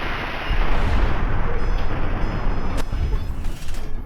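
Weapon fire in Fallout: New Vegas, a sustained loud booming, rumbling blast that fills the whole clip, with a sharp crack near the end and no talking.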